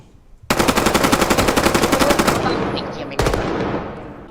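AK fire in the Roblox game Deadline: a long loud rapid automatic burst, then a pause and a second shorter burst with a fading tail.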